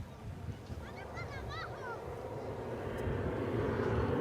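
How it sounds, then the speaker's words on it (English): An Airbus A321 airliner bound for Las Vegas takes off at DFW Airport, a broad jet engine roar building steadily louder over a few seconds, with a brief whistling tone early on. "That's going to Las Vegas. That's an Airbus A321."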